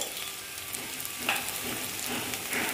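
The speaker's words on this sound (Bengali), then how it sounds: "দিয়ে আবার আমি এটা ভালো মতন ভেজে নিচ্ছি" Onions fry in a pan with salt, giving off a steady moderate sizzle with faint crackles and a couple of brighter spits, and no talking.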